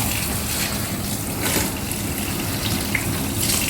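Liquid drains off Spanish mackerel in a steady, close watery rush, a continuous pouring gush over roughly four seconds with no speech.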